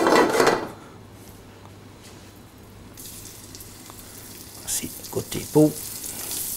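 Quails sizzle as they go skin-side down into melted butter in a pan, a loud hiss up front that settles into a quieter, steady fry with a few sharp crackles and pops near the end; a voice speaks briefly at the start.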